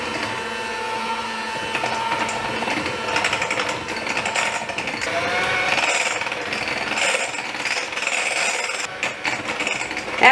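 A loud electric hand mixer beats cream cheese mixture into whipped cream for a gluten-free strawberry pretzel dessert, giving a steady, continuous whir with small shifts in pitch and no speech.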